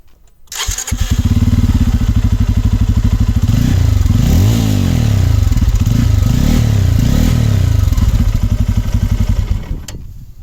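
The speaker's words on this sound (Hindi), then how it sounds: "काफ़ी बेसी एग्जॉस्ट नोट है इस नई पल्सर 250 के इंजन का।" A Bajaj Pulsar 250 motorcycle engine starts and settles into a loud, close, steady exhaust drone, with a few throttle blips in the middle before it shuts off near the end.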